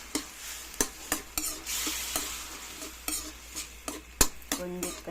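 Corned beef filling for coconut-heart lumpia sautés in a pan, with steady sizzling broken by repeated sharp clicks and scrapes of a utensil against the pan, close and clear.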